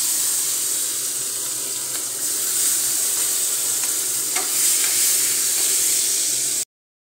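Dal being tempered, spices frying in hot oil with a steady bright sizzle that holds for several seconds before cutting off abruptly, with faint scraping and stirring clicks underneath and no talking.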